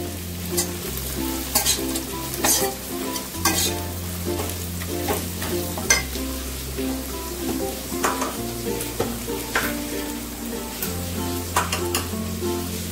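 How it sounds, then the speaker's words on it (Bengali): Chicken frying in a pan with Kashmiri chili, ginger paste and garlic paste, stirred steadily: continuous sizzle with repeated scraping strokes of a spoon against the pan, close and clear, with no talking. "দেখো আমি কাশ্মীরি লঙ্কা দিয়ে দিচ্ছি, দিয়ে একটুখানি নেড়ে দেবো।"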